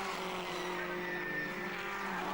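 Racing cars at a Mallory Park motor race drone steadily, their engines a sustained whine and roar that holds level for the whole moment, heard from a moderate distance with no voices over it.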